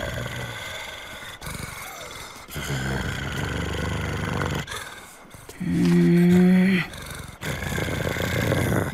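Dog growling in the Professor Layton and the Miracle Mask game cutscene, a loud low growl and snarl in the middle of other cutscene audio and voice acting.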